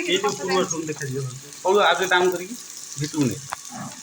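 Onions sizzling and frying in a pan for biryani, a steady crackle running under a person talking throughout.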